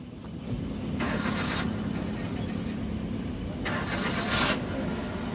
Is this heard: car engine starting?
yes